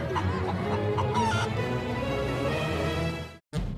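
A cartoon chicken clucks loudly and continuously over busy music, running without a break until a brief drop to silence just before the end.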